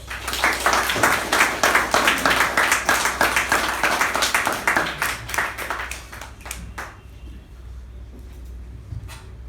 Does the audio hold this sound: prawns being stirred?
no